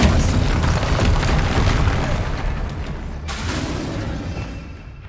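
A spell blast in Hogwarts Legacy on PS5 erupts as a loud, dense booming burst that fills the moment, then slowly tails off.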